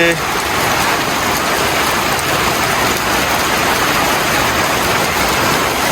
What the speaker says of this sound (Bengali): এই দেখেন বৃষ্টি শুরু হয়ে গেছে আমাদের এখানে